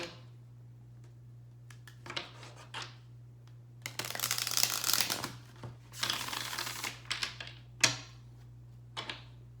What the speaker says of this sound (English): I want to get 3 more cards and see.